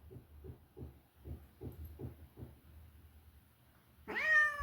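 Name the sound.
cat meowing in the kitchen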